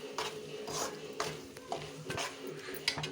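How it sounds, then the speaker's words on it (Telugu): A bitter gourd curry is stirred in a pan, giving faint, continuous scraping and sizzling with soft spoon strokes repeating at an even pace and no voices. "మళ్ళీ ఒకసారి బాగా కలుపుకోవాలి."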